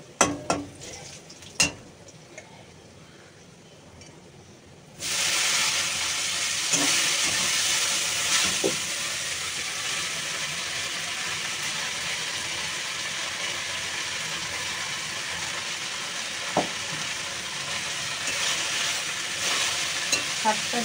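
Kolmi shak (water spinach) sizzles after being added to a hot pan, a sudden burst of loud, steady hissing and crackling following a few quiet knocks, with occasional clatters from stirring throughout.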